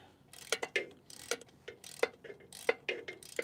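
Bolts on an old winch being tightened, giving a quick run of sharp metallic ratcheting clicks in uneven bursts, close and fairly quiet, with no talking.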